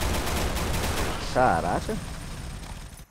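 C416 rifle gunfire in the video game Modern Ops, a rapid burst of shots at moderate loudness under a voice speaking over it.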